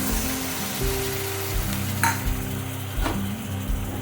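A spice paste sizzles steadily in a pan as a little water is added to keep it from burning, with stirring scrapes and a couple of sharp utensil clinks over the continuous frying hiss.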